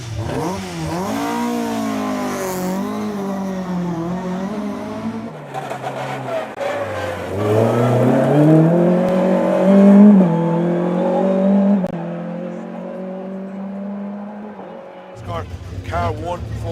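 A Ford Escort rally car at a stage start of the West Cork Rally revs hard and repeatedly, engine pitch rising and falling in loud close bursts before pulling away, with a commentator talking over it.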